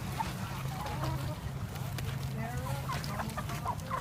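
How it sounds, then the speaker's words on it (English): Chickens on a farm cluck and warble in short, irregular bursts close by, set over a low murmur of voices in the background. "More chickens."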